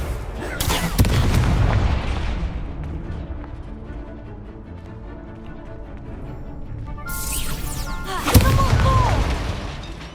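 Fiery Confringo blast spell in the Hogwarts Legacy video game, with loud booming explosions, rumbling impacts and crackling bursts over swelling game music, then a second sharp blast near the end.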